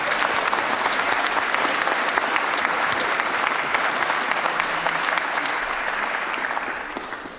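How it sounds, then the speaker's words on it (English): A crowd claps steadily in sustained applause, dense and loud, tapering off slightly at the end. "let's have a round of applause"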